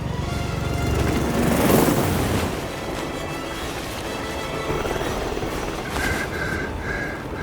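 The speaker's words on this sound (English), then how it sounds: "Alexa Carlisle's helicopter just took off" A helicopter lifts off in Hitman 3, giving a loud, steady, rumbling roar of engine and rotor wash that peaks early, then holds at a constant level, with some faint higher whining tones near the end.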